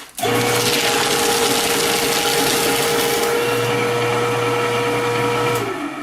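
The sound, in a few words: crosscut paper shredder shredding a paper stack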